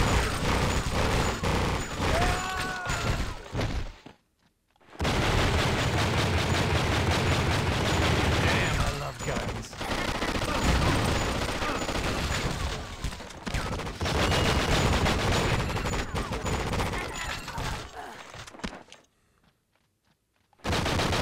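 Sustained gunfire from the video game True Crime: Streets of LA, dense rapid bursts of shots and booms filling most of the stretch, broken by a couple of brief silent gaps.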